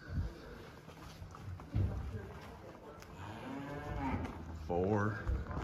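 Cattle mooing on a farm at night during calving season, several drawn-out lowing calls rising and falling, moderately near, with faint talk and barn noise underneath.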